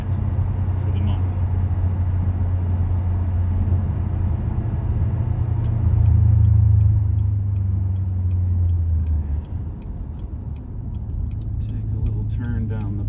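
A 6th-gen LT1 Camaro rumbles low and steady from inside the cabin on a test drive, swelling briefly louder midway before easing back under road noise.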